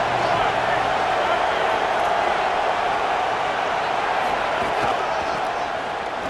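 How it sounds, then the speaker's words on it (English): Stadium crowd in a College Football video game, a steady loud roar of many voices filling the clip with constant, dense noise and no clear breaks. "This crowd ready to make its presence known."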